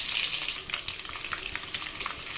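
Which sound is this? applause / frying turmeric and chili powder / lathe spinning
frying turmeric and chili powder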